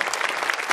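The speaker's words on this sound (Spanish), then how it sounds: "un fuerte aplauso para esta pareja de jóvenes, la verdad." Audience applause after a ballet performance by a young couple, a brief, dense burst of clapping from a crowd, close and loud.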